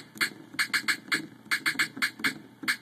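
Snare roll programmed in the BeatMaker 2 app with every hit at the same pitch, a repeated series of crisp snare strikes in quick uneven bursts, clear and upfront with no talking.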